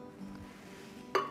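Frozen strawberries drop into a blender, giving a single sharp clink near the end after a quiet stretch of faint room noise.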